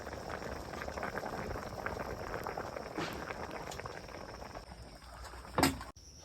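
A pot of fish curry with crushed ginger, garlic, jaluk pepper and hot chillies simmers at a steady boil, with continuous soft bubbling and popping close by. A single sharp knock sounds near the end.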